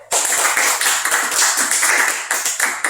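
A group of students in a school classroom claps hands together in sharp, loud, slightly uneven bursts that continue steadily to the end.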